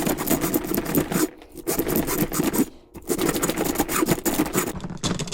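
Hand mixer copper wiring being cut, a harsh, close scraping and grinding in sustained bursts separated by two short pauses, with no voices.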